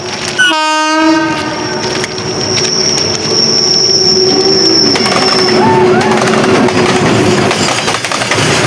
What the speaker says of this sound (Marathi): आता या साईडला आणखी एक ट्रेन आली